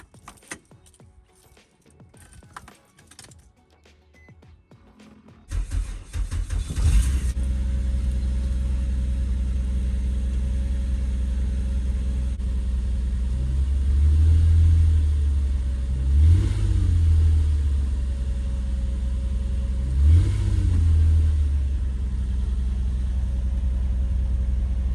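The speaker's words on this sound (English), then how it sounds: "Make sure you cycle the key a couple of times before starting the engine up to prime the fuel system." Keys jingle faintly before the engine of an 03-07 Nissan Murano cranks and catches after a fuel pump replacement, then settles into a close, steady idle with a few light revs.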